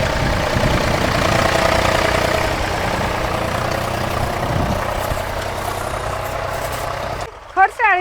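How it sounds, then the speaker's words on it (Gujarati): A tractor engine idles steadily on a farm during sand filling, a continuous loud low rumble throughout that cuts off near the end, followed by a short burst of voice. "જા પાછું આપણે ટ્રેક્ટર આવી ગયો, એક પછી એક ચાલુ જ રહે."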